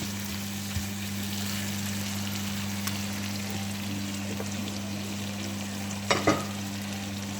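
Onions sizzle in a pan beside beef liver with a continuous, even frying hiss over a low steady hum, a couple of brief utensil clinks near the end, no voices.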